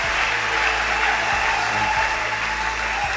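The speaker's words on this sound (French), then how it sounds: "on acclame pour le Seigneur" Church congregation applauding steadily and loudly, a continuous dense clatter of clapping hands filling the room with no voices standing out.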